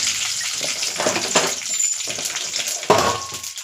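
Curry leaves crackling and spitting as they drop into hot sesame oil with mustard seeds, a dense steady sizzle with sharp pops and a louder burst near the end, close and alone.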